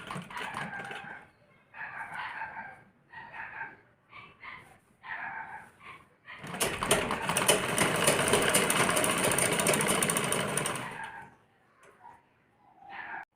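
A sewing machine stitches along the edge of a blouse in a steady whirring run of about four seconds, close and fairly loud, preceded and followed by short bursts of talk.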